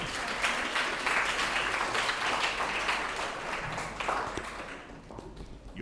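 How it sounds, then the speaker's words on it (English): Audience applause for a guest lecturer at Universitas Diponegoro, a sustained dense round of clapping that tapers slightly toward the end. "Give him applause."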